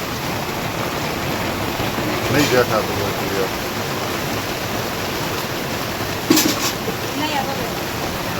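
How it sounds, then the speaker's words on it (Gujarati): Steady broadband hiss of heavy monsoon rain falling on a backyard plot, continuous throughout, with someone speaking briefly in Gujarati over it and a couple of short nearby clatters. "અમારમાં આ ટાઈપનો વરસાદ છે"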